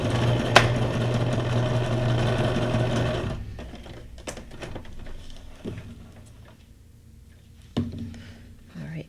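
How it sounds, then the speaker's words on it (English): A sewing machine running a straight stitch, a steady close whirring hum for about three seconds, then stopping, followed by faint handling clicks and knocks. "Things tend to shift as I'm putting them on the machine. Change my stitch to a straight stitch."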